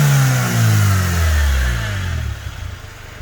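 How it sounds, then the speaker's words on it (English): A Honda Civic EJ1 engine, started up after sitting a decade, revs hard and then falls back toward a rough idle, with loud intake whoosh from the air filter over a deep engine drone. "Let's hear the intake spool. You can hear it. The filter sucking in all that air still after all these years."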